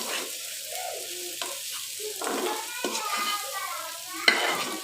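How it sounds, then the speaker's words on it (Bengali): Boneless fish fries in a pan, a steady close sizzle with shifting scrapes and squeaks as it is moved about, and a small sharp clink near the end. "ওদের জন্য আমি একটু মাছ ভাজি করে নিচ্ছি।"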